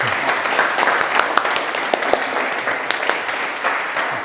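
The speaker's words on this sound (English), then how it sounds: "we give Mr. Gasbarro a round of applause" A meeting audience claps after a talk on the Fair Tax, sustained applause of many hands at steady loudness across the room with sharp individual claps standing out.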